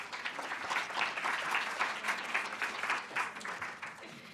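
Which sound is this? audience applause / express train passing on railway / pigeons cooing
audience applause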